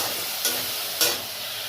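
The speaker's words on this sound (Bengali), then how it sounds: "এই সেদ্ধ করা ছোলার ডালটা এবার দিয়ে দেবো।" Boiled chana dal tipped into a hot frying pan and stirred, with two short scraping stir strokes over a steady close sizzle of frying.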